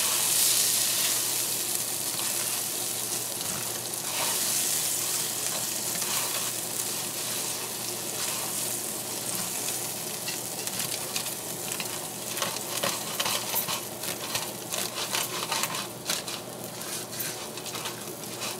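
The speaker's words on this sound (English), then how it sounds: "So our water is starting to boil, as you can see." Water coming to a boil in a pot while making soft vermicelli, a steady close hiss and bubbling fizz that holds throughout with no one speaking.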